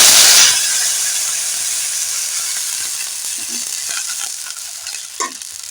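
Water hits a hot spice mixture of cracked cardamom and green chilli in a pan with a loud opening burst of sizzling and steam, then settles into a steady softer bubbling hiss with faint utensil clinks; no talk.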